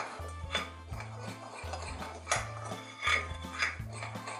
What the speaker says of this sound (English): So you want to mix the salt and the yeast and the flour together.